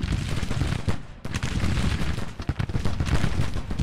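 Rapid, dense volleys of massed musket and cannon fire from Grand Tactician: The Civil War battle, cracks and booms overlapping continuously with a brief lull near the one-second mark, loud and close.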